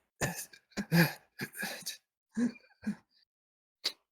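A person imitates coughing with a series of harsh, throaty bursts and hacks, close to the microphone, separated by short pauses.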